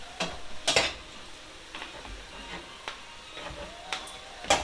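Collard greens cooking down in a pot, a faint low sizzle under scattered clinks and scrapes of a utensil against the pot, several sharper knocks spaced across the stretch.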